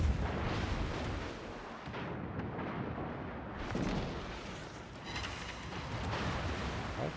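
Heavy naval gun salvos from the Japanese cruiser Atago in a warship video game, deep rumbling booms layered over a constant roar of battle noise, fairly distant and continuous without speech.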